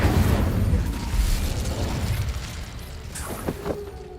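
Incendio fire spell cast in Hogwarts Legacy, a loud rumbling burst of flame that fades into a crackling, whooshing tail with a few sharp pops near the end.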